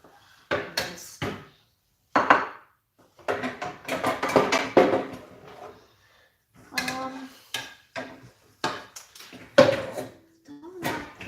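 Metal pans clatter and knock as they are pulled out and handled in a home kitchen while cooking Thai green curry chicken, in irregular bursts of clanks and scrapes separated by short quiet gaps.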